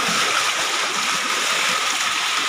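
Floodwater rushes steadily through a village street in Barangay San Pedro, Duero, Bohol, Philippines, a continuous loud hiss and gurgle with no break throughout.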